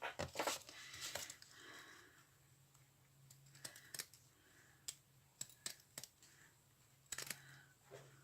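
Scissors cutting through sequin-covered fabric give quiet, sharp snips and small clicking ticks at irregular intervals, close and faint against a low background hum.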